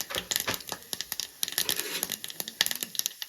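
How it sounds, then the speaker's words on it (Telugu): Mustard seeds, cumin, green gram dal and black gram dal crackle in hot oil for a tempering, giving dense irregular pops and crinkly snaps at close range, with no talk. "చిటపటలు అవుతుంది."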